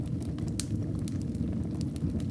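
A wood fire burns in a fireplace in a snowy Swiss mountain setting. It gives a steady low rumble with scattered sharp crackles and pops throughout, close and even, with no voices.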